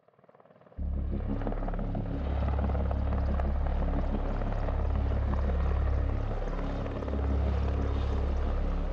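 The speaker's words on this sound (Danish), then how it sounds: "En Merlin-helikopter fra forsvaret lander et sted i Nordjylland" Military Merlin helicopter landing somewhere in northern Jutland, its deep rotor thump and turbine whine rising sharply and then holding loud and continuous, with no voices.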